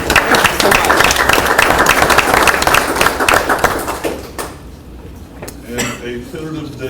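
A room full of people at the Walton city council meeting clapping in a dense burst for about four seconds, then thinning into scattered claps, clatter and voices.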